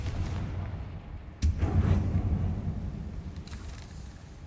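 A Confringo fire spell blasts in the video game Hogwarts Legacy, one sudden deep boom followed by a rumbling fiery roar that slowly fades out.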